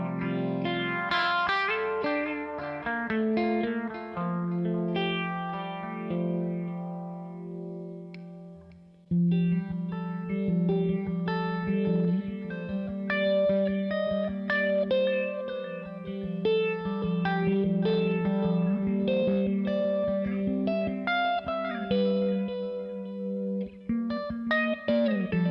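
Guitar through a Keeley OAXA effects pedal producing vibey, lush sounds: strummed and picked chords with shimmering chorus-like modulation, reverb and echo washing into long sustained textures, played alone.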